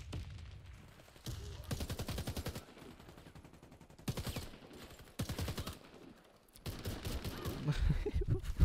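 Bursts of rapid automatic fire from an F90 MBR rifle in the shooter game Warface come in several sustained volleys separated by short pauses, loud and close, with a voice briefly talking underneath.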